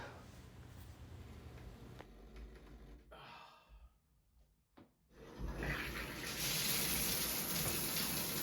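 Water running from a newly installed shower head on a new shower arm with an inline filter, a steady hiss that cuts off briefly midway and then returns stronger and louder.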